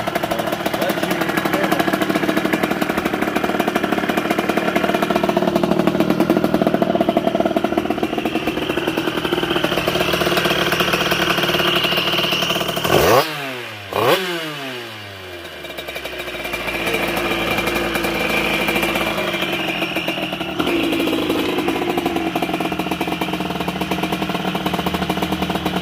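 A moped engine running through a homemade exhaust drones loudly and steadily nearby, then dips sharply in a brief falling sweep before settling back into its rough running note.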